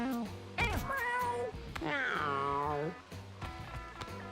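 Video game cat meow effect: a short mew followed by a long, loud wavering meow in the middle, with quieter chirpy sounds before and after and low background noise.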